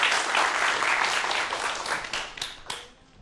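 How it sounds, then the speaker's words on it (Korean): An audience applauds after a talk on 3D pens on a Korean science program, a dense steady clapping that thins out toward the end. "다시 한번 박수 부탁드릴게요"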